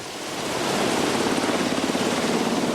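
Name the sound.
SH-60B Seahawk helicopter flying over the ocean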